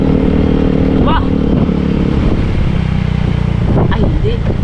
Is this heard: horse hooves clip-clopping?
no